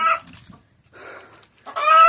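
Hens in a backyard coop cluck in short bursts separated by brief quiet gaps, close and clear, with no talking.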